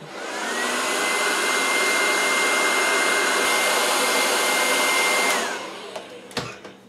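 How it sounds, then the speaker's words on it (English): A blow dryer roars steadily at close range for several seconds while heating velcro on a pedal board, then switches off, followed by a few faint clicks and handling sounds. "I'll take the blow dryer and superheat it."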